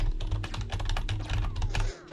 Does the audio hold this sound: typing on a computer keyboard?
yes